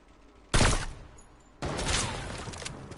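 Heavy shotgun in a video game, two loud blasts: a sharp boom that quickly fades, then a second shot about a second later whose rumbling tail lingers to the end.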